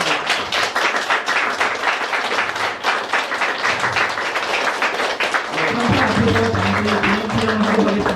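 Loud, dense applause from an audience at a welfare center blessing ceremony, continuous crowd clapping with scattered sharp taps, swelling fuller toward the end as voices and other sounds join in.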